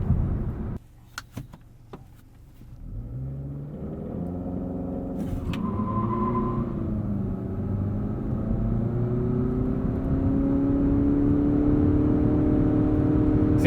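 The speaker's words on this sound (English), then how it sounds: "Part of me actually prefers launching in L mode because you'll see the revs act like a true continuously variable transmission" A 2020 Nissan Altima Platinum with a CVT accelerates in L mode, its engine drone rising in pitch and then holding a steady, strong hum that builds in loudness over road rumble, after a few brief clicks at the start.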